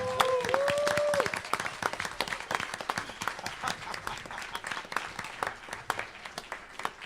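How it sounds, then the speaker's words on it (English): An audience at a Kindness Day gathering gives rousing applause. Steady, moderate clapping from many people carries on throughout, and a brief tonal sound rises near the start. "give yourself a rousing applause"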